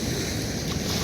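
Broad rushing wash of water and wind with a low engine-like rumble, steady throughout, as a boat moves along nearby.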